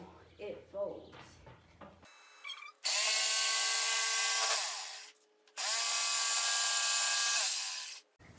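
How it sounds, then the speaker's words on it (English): Jigsaw cutting the metal side door opening of a school bus conversion, two long loud bursts of buzzing sawing separated by a short pause; before them a voice speaks over brief tool handling and clatter. "Okay, swapping out the drill for the jigsaw."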